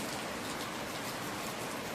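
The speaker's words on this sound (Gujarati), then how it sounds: "વરસાદ આમ આમનો ચાલુ થઈ ગયો હવે સારું" Steady rain falls continuously, a dense even hiss of drops hitting surfaces, with no voices.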